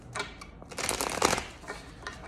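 A deck of tarot cards is shuffled by hand close up, giving rapid papery riffles and flicks in uneven bursts with no talking.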